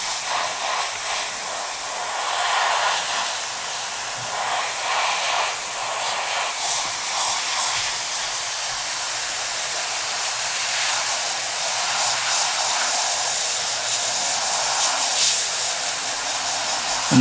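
An airbrush sprays thin coats of paint onto a Sturmgeschütz III Ausf B scale model, a steady close airy hiss that runs unbroken throughout with slight swells in strength.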